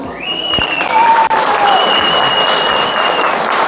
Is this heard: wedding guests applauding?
yes